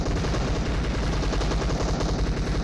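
Rapid automatic Uzi fire in a shooter video game, a dense continuous burst of loud shots running the whole stretch with no pauses.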